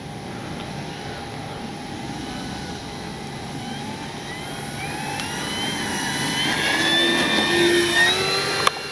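A 1600mm Flightline P-51D Mustang RC plane taking off, its electric motor whine rising steadily in pitch and loudness over several seconds against an outdoor background.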